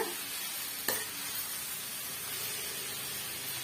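Grated coconut mixture fries in a pan with a steady, close hiss of sizzling, broken by one sharp scrape of stirring near the start, with no talk.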